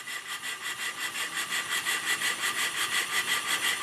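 A J Reeves Double Tangye model steam engine runs steadily on low steam pressure, with a fast, even, repeating chuff and mechanical rhythm heard up close and alone.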